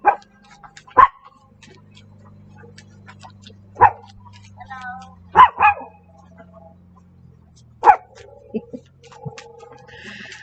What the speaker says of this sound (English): And Carmela's barking.